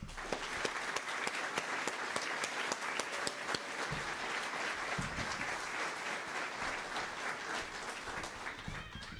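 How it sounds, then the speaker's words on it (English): An audience claps warmly at a school community celebration, a steady wash of applause with sharp individual claps standing out, moderately distant. "let's give everybody a big round of applause"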